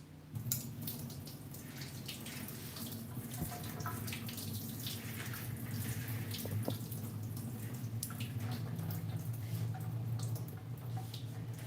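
Water drains steadily in a kitchen sink, a continuous faint rushing and trickling flow that holds at an even level for about twelve seconds with no talking.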